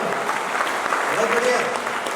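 An auditorium audience applauds after a spirited poetry recitation, a steady, dense burst of clapping with voices audible beneath it.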